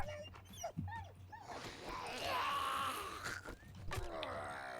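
A dog in the video game 7 Days to Die whimpers, yips and grunts in short, uneven bursts, fairly faint, against other game sounds.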